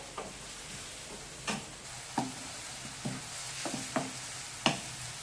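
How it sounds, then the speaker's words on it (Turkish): Onions sautéed in a pan for menemen, a steady low sizzle with periodic sharp scrapes and clicks of a utensil stirring, close and fairly quiet without talk. "Soğanımızı böyle kavurun güzelce."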